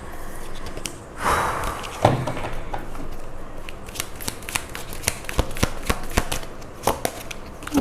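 Tarot cards being shuffled by hand, with repeated crisp flutters and riffles, several sharp slaps as cards fall, and brief breaths in a quiet room.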